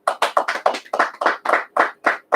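A dozen or so sharp hand claps in an even, fast rhythm ring out close and loud, each separated by brief silence, with no talking.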